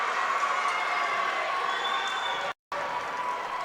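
Crowd at a varsity boys high school basketball game roars and cheers after a made turnaround jump shot, a steady, fairly loud gym-wide noise with a brief cut in the middle.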